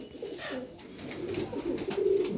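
A Kunda breed pigeon in a breeding setup coos softly and repeatedly, low throaty rolling calls close by in a quiet space, with no talk over them.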